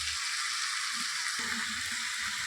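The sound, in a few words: chicken frying in a pan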